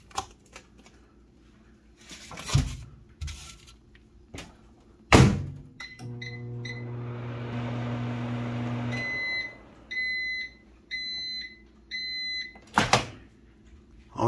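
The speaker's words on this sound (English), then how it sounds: "Now it's time to get it in the microwave." A microwave oven heating a chimichanga on a plate hums steadily for a few seconds, followed by a series of electronic beeps, with a few clunks of the door and handling around it.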